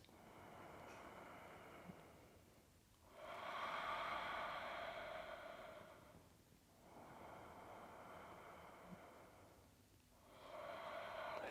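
Slow, deep breathing while holding a lateral yoga stretch: three long airy breath cycles, each a soft rushing exhale followed by a brief pause, close and quiet.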